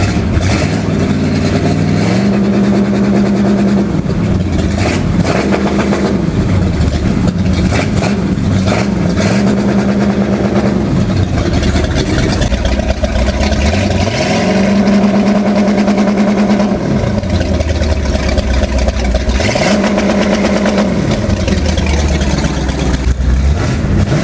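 A GM V8 with HEI distributor ignition runs steadily, then rises to an MSD soft touch rev limiter just under 3000 rpm several times, the engine note flattening and holding at the cap before dropping back, loud and close.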